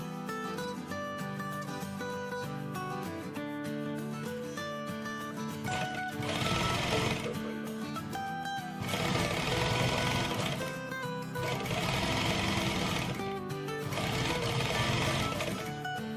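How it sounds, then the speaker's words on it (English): A sewing machine stitches the hem of a 1940s-style vintage skirt in several bursts of steady mechanical whirring, loud and close, with short quiet pauses between runs. "Then hand stitch the hem, and then secure it with the machine."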